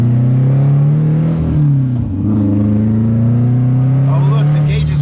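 A Subaru Legacy engine drones loudly and steadily from close by, its pitch sagging briefly and then climbing again in a smooth rev, with a voice heard faintly over it.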